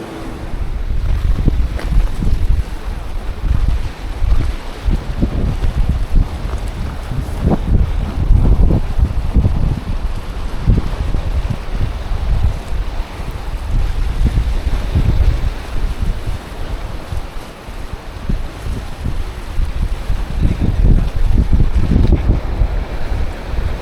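Sea waves roll in and break continuously on a beach at Arthunkal, with strong wind buffeting the microphone and a constant loud low rumble of surf, no voices heard.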